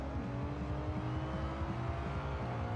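A 2010 Ferrari 599 GTO in Forza Horizon 4 pulls hard in second gear, its engine a steady, throbbing drone with pulsing low notes under constant road noise.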